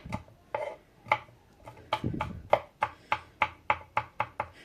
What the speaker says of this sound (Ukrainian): Тепер дрібненько нарізаємо часничок.